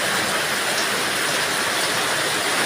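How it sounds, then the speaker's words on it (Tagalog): Very heavy rain pours down in a dense, steady, loud roar that fills the air without a break, with no voices. "Sobrang lakas ng ulan guys"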